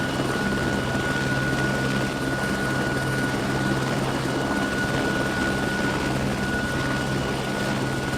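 Interior of a troop transport helicopter built to carry 11 soldiers, with a loud, steady rotor-and-engine drone that fills the cabin without pause from start to finish.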